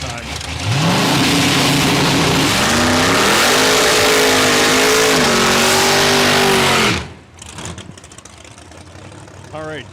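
Drag race car making a pass at Saskatchewan International Raceway, a loud, sustained engine roar near the top end with RPM shifting, then dropping away abruptly around seven seconds, leaving faint ambient noise and light talk.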